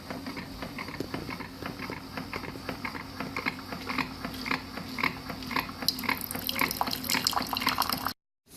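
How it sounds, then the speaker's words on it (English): Keurig coffee machine dispensing hot water, a steady gurgling trickle with rhythmic pumping pulses that grows busier before cutting off abruptly near the end, close and fairly quiet. "Continue, and it should dispense water."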